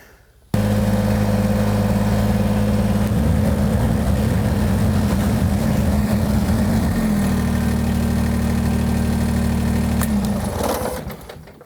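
A tractor engine starts up abruptly and runs loud and close, chugging steadily with a shift in rhythm midway, then winds down at the end.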